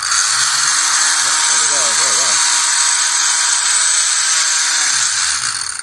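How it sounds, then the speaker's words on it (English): A small DC motor-generator powered by a 12-volt battery through clip leads spins with a high, steady electric whine. The whine is close and constant, with a brief voice exclaiming over it early on. "let's just test this thing out by turning it on and just seeing if the motor spins"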